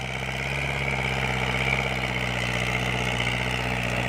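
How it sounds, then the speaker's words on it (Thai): Kubota L5018 farm tractor engine idling steadily, a continuous low diesel rumble with a droning hum, close and constant throughout with no talk. "รถไถสิงนะครับ"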